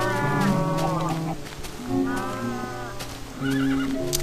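Horses in the Minecraft video game neigh and whinny in short, wavering calls among a steady chorus of lowing cattle, a busy farm-pen mix with several animals sounding at once.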